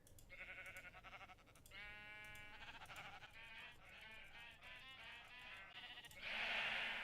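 Many Minecraft sheep bleat repeatedly inside a game enclosure, overlapping calls in a steady chorus that grows louder and denser toward the end, with no talking.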